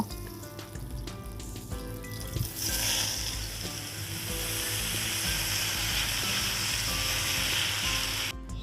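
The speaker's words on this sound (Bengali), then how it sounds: "আমি কড়াই বসিয়ে দিয়েছি তো প্রথমে শাকটা ভেজে নেব" Leafy greens hit hot oil with dried chillies in a wok, setting off a loud, steady close sizzle and crackle after a few clattering stirs, holding strong until a sudden stop.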